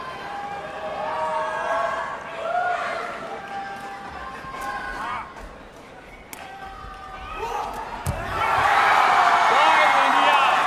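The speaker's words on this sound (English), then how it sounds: "Listen to the crowd." Indoor crowd at a sepaktakraw World Cup match in Bihar, India, rising into loud, sustained cheering and whooping that swells sharply near the end, with an announcer talking over the arena noise.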